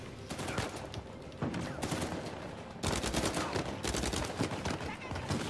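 Dense, continuous gunfire from Uncharted 4, rapid overlapping shots and bursts in a chaotic firefight, with a player's voice partly under the shooting.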